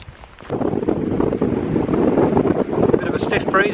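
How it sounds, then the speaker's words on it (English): Stiff breeze at a wild campsite buffeting the microphone, gusty low rumbling wind that rises after a quiet start and surges unevenly, with faint higher rustling toward the end. "Bit of a stiff breeze blowing."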